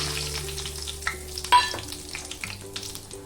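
Whole garam masala, dried red chillies, bay leaf and cumin seeds hitting hot oil, crackling and spitting up close with sharp pops and a steady tonal hum underneath, no talk.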